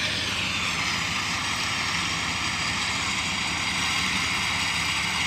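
A farm grass-mowing machine with a rotating drum and side blades runs at a constant, loud, steady drone, with no change in pitch or pace and no voices.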